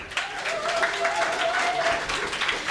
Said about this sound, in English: please give a round of applause to Julia